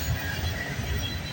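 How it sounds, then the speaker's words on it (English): CPKC freight train passing at Milton in the early morning, a steady low rumble with rail noise and hiss that holds level across the short stretch, with no voices. "Wow, what a surprise train meet we got."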